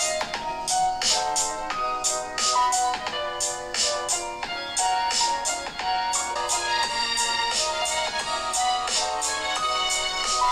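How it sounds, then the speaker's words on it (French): A familiar, catchy tune plays loud and continuously from the speaker of a Cubot KingKong Star rugged smartphone with a rear screen, with steady rhythmic notes and no talking. "une petite musique que vous avez déjà tous entendue si vous êtes traîné un petit peu sur YouTube"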